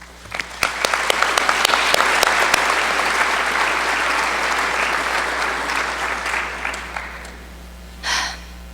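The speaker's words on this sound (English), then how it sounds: "Please join me in giving them all a round of applause." A congregation at Congregation Or Ami applauds its volunteer committee members, with sustained clapping that swells quickly, holds for several seconds, then fades, followed by a brief loud breath or sound near the end.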